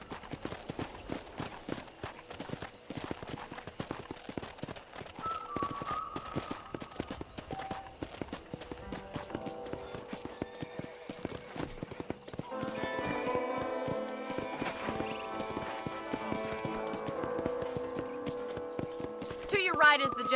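Horse hooves clip-clop at a steady walking pace throughout on a ranch in Red Dead Redemption, with faint music and game sounds layered in the background.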